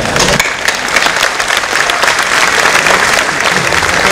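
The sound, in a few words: applause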